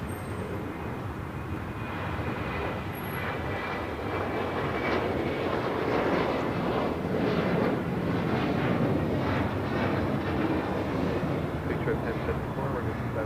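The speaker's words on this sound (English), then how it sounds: "Here we have Alaska Airlines 703 coming in from Las Vegas on a 737-900ER" An Alaska Airlines Boeing 737-900ER on approach to land at LAX makes a steady, broad jet roar. It swells slightly and holds for several seconds, with faint voices in the background.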